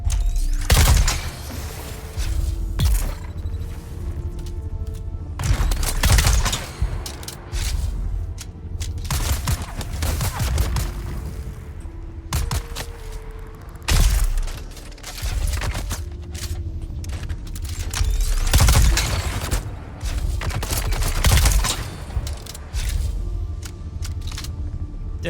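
Gunfire in the video game Dune: Awakening rings out in repeated loud bursts and volleys over a constant background din, the shots coming in clusters across the stretch.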